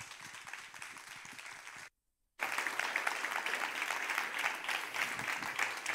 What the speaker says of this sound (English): would you join me in a big round of applause to welcome our guest